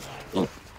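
A pig on a farm lets out a single short grunt, fairly close and clear, against quiet outdoor background noise.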